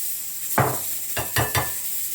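Kefta with onion going into a hot pan, giving a brief close sizzle followed by a few short scraping stirs against the pan, with no talking.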